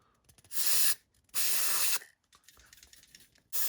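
Contact cleaner sprays into the motor of an RC racer in three loud, hissing bursts, two long ones followed by a short one, with quiet gaps between them.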